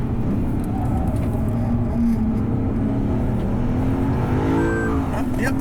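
A Lexus RC F Track Edition engine drones steadily on a race track, loud and continuous from the cabin, with gear changes and rising revs near the end.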